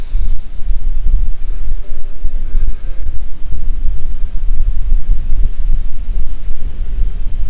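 Wind sweeping over mountains at a campsite with trees and hills nearby. It makes a loud, constant low roar and buffeting gusts against the microphone, with no voices.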